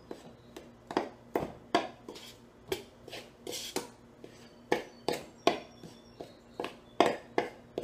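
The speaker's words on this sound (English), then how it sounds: "with our cold butter right now, we'll just cut it in with two knives into our flour" Two knives cutting cold butter into flour in a bowl: a steady series of about twenty crisp metallic clicks and scrapes, evenly paced and close, with no talking.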